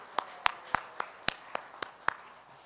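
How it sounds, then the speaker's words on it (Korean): About nine scattered, isolated claps at an uneven pace, fairly faint, as if only a few people are applauding at a church service. "하나님께 다시 한번 영광의 박수 올려드릴까요?"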